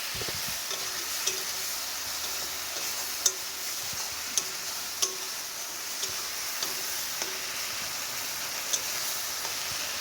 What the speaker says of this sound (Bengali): এখন এই সব কিছুকে একসাথে মিশিয়ে আমরা একটু ভেজে নেবো এটাকে।